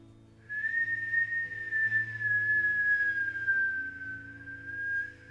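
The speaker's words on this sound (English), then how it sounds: "So we're inhaling through the nose, whistle out the mouth." A person exhales through pursed lips during a breathing exercise, producing one long, steady, clear whistle that drifts slightly lower in pitch over about four and a half seconds, close and alone.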